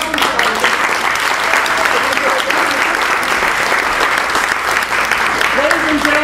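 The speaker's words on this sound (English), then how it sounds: "Come on, round of applause." A theater audience at the Civic Theater breaks into loud, sustained applause, a dense wash of clapping that holds steady throughout, with scattered voices and cheers rising through it.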